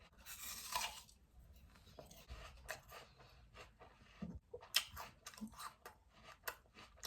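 Crisp, crunchy chewing of an Envy apple, close to the mic, a series of irregular wet bites and crunches with no talking.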